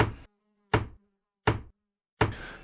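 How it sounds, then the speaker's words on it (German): In the video game Green Project, an axe is repaired with four sharp, evenly spaced metallic hammer strikes, each ringing briefly before cutting to silence, loud and close with no talk. "Dann ist die Axt jetzt noch einmal repariert."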